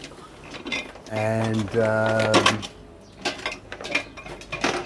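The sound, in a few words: small vacuum pump running on a farm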